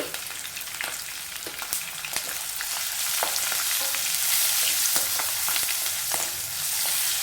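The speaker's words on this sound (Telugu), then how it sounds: "తాలింపునంతా దోరగా వేయించుకోవాలండి." A tempering of green chillies and turmeric fries in hot oil, giving a continuous close sizzle with scattered pops and crackles as it is stirred, with no talk.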